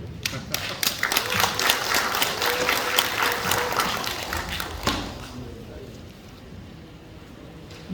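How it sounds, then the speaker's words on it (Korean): At a county association's candidate forum, the audience claps for the association's chairman. Brisk, moderately loud applause rolls for about five seconds, then thins quickly into scattered claps and room tone. "버정 회장님한테도 박수 한번 부탁드립니다."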